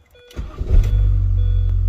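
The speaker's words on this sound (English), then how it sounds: "give your engine a start to ensure proper installation." A Mini Cooper engine cranks and fires after a fuel pump replacement, with a short starter whir followed by a steady, close, rumbling idle.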